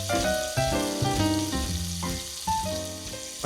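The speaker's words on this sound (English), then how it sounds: "the pancetta right now, as it's reducing, as it's frying into the olive oil" Pancetta sizzles and crackles steadily in hot olive oil, with melodic background music playing over the frying throughout.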